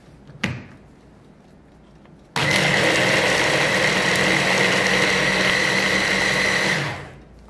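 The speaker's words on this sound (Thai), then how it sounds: "ทีนี้ก็ปั่นให้ทุกอย่างเข้ากันดีค่ะ" An electric blender whirs loudly while mixing a fish sauce dipping sauce with fresh lime juice and water, starting abruptly after a short clatter and running steadily for several seconds before spinning down.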